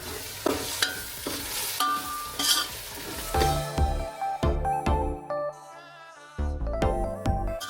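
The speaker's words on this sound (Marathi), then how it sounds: "आपला सगळा मसाला आता मिक्स झाला आहे" Pav bhaji masala being stirred in a pan, with repeated scraping and clinks of a spoon against metal over an intermittent sizzle, close and fairly loud.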